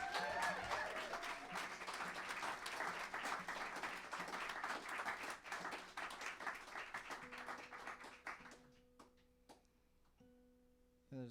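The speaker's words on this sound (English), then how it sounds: "So give them a round of applause." Clapping and cheering from a small live-music audience in a recording studio for the band members, strong at first, then fading to scattered claps as a low instrument tone sounds.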